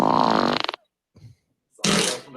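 Two loud, raspy farts, a long buzzing one with a fluttering tail, then a short silence and a second brief burst, close and clear with no talk over them.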